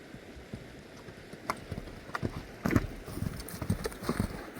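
Hooves of a fast, purebred Kyrgyz horse clip-clopping in an irregular run of sharp, fairly close strikes that grow louder toward the middle and end.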